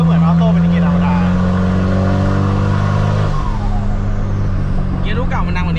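A car engine with a turbo revs loudly close by, holding a droning pitch before a gear shift drops it partway through, with a brief voice near the end.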